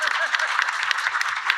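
Applause rings out from attendees at an annual research meeting, brisk and fairly close, with a voice murmuring faintly underneath.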